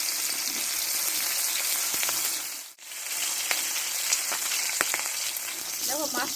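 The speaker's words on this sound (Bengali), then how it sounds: "আমি অল্প একটু সরষের তেল দিয়ে দেব, দিয়ে মাছটাকে ভেজে নেব।" A fish head fries in mustard oil in a hot kadai, giving a steady crackling sizzle with scattered pops and a brief dip in the middle where the noise nearly drops out before resuming.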